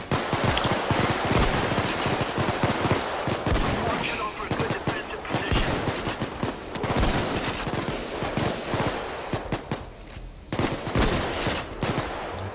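Automatic and shotgun fire from a heist shooter game, dense and loud, a near-continuous barrage of rapid rifle bursts and heavier blasts with only brief lulls.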